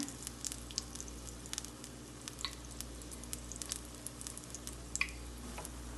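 Sweet paniyaram batter sizzles and crackles steadily in a paniyaram pan over low heat, soft and close with scattered small pops and no voices.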